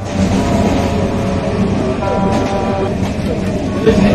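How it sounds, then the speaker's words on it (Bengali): A Naihati–Sealdah local train pulls into the station, its loud, steady rumble and low mechanical drone filling the whole stretch with no talk on top. "তো ফাইনালি গাইজ আমাদের ট্রেন ঢুকে গেছে। আর এটা হচ্ছে নৈহাটি শিয়ালদা লোকাল।"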